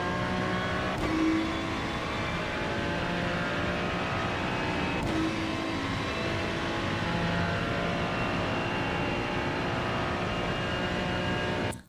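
Ferrari 296 GT3 engine lapping Monza in iRacing, a continuous loud, steady engine drone heard from on board, with a couple of brief clicks of gear shifts as it keeps pulling, no voices over it.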